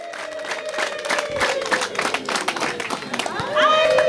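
Rwandan crowd at a traditional ceremony trilling impundu ululations and clapping, with talk and shouting over the scattered claps and a high ululation rising near the end.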